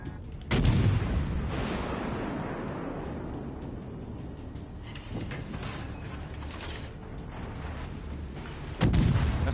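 Bismarck battleship secondary guns in the naval combat game World of Warships: two heavy booming shots, one near the start and one near the end, with mechanical clanks and a rumbling battle backdrop between them.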